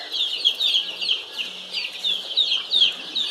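A large flock of Sonali chickens on a poultry farm cluck and chirp continuously, with many overlapping high calls pulsing in quick irregular bursts and nothing else heard.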